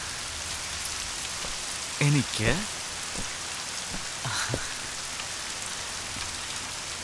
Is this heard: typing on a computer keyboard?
no